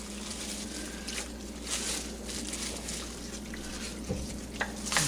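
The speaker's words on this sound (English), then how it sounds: "Then you just slowly stir everything together." Chili in a pot is stirred slowly, giving a low continuous churning squish with a faint sizzle underneath and a couple of light knocks near the end.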